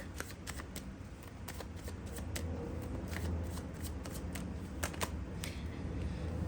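Tarot cards are shuffled in quick, crisp riffles and flicks, a steady run of soft snapping card sounds close to the microphone with low background hiss.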